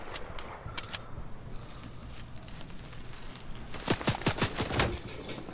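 Gunfire in the Fortnite video game, with a couple of sharp shots early, then a rapid burst of several loud cracks near the end over a quiet background.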